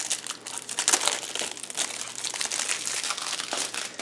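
Plastic wrapping around board-game cards crinkles and crackles continuously up close, with dense irregular rustling bursts and no talking.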